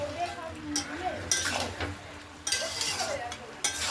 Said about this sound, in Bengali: সবজিটা আস্তে আস্তে নরম হয়ে আসছে, ভালো করে কষতে থাকবেন আপনারা।